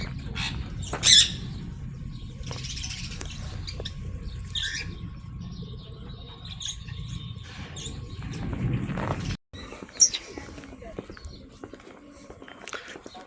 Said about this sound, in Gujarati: પક્ષી ઘરમાં પોપટ બેઠા છે.